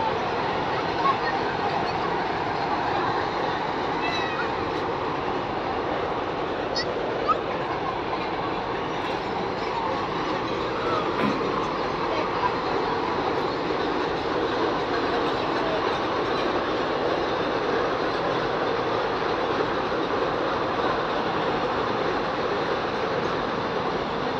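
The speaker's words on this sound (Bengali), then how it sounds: "এটা ট্রেন নয়, মালগাড়ি, মালগাড়ি যাচ্ছে" A freight train of goods wagons rolls past on a bridge line at Panskura, a steady continuous rumble with faint rail squeals and clatter, fairly distant and unbroken throughout, with no talk.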